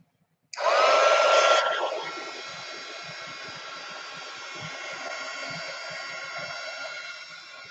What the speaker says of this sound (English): Let's get a little heat tool going.